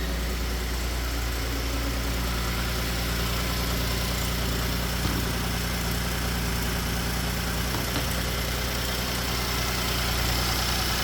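A 2018 Ford F-150 EcoBoost engine idles steadily and close by, with a constant low hum and only faint tapping, now quieter than it was before.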